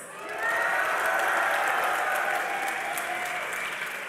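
An esports arena crowd at a League of Legends grand final between CLG.EU and Fnatic cheers and applauds loudly, a sustained roar of clapping and shouting that swells quickly and holds steady throughout.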